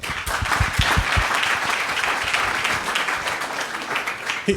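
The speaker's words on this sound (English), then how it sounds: "Let's give Mike a round of applause." An audience at a business plan competition applauds a guest called up before an award ceremony, a full steady burst of clapping from many hands, with a few sharp nearby claps at the start.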